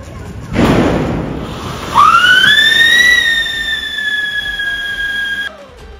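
A siren firecracker goes off nearby: a burst of fizzing hiss, then a loud, shrill rising whistle that holds a steady wailing pitch for several seconds before cutting out abruptly.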